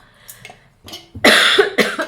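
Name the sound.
coughing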